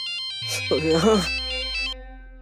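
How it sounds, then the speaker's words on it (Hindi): A phone plays a melodic electronic ringtone for an incoming call from the office in a home scene of an Indian TV sitcom. The steady tones carry on while a voice speaks over them. "मार्फतिया का फोन आ गया ऑफिस से"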